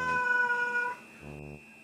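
A lonely pet cat meows repeatedly while its owner is in the bath: a long, loud, close meow followed by a shorter, quieter, lower cry, with no talking.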